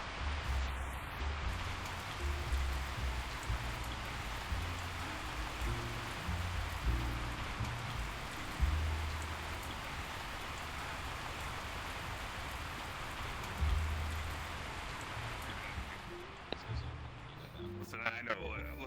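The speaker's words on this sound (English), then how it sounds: "Oh, it's raining here." Steady video-game rain falls in a constant, even hiss, with low thumps and a voice talking at times underneath.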